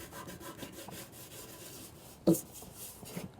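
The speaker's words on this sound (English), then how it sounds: "I went over it one more time with my Scotch-Brite pad" Scotch-Brite pad rubbing over a small-block Chevy oil pan, giving faint, close scuffing strokes with one sharper scrape near the end.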